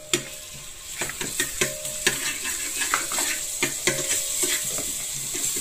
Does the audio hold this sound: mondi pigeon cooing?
no